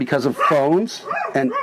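A dog barks a few times close by, breaking in over continuous conversation.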